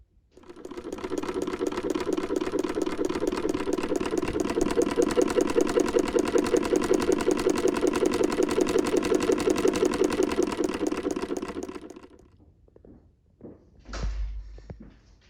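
A Raymond treadle sewing machine runs steadily for about eleven seconds with a fast, even mechanical clatter, then slows and stops, followed by a few faint knocks and a soft thump.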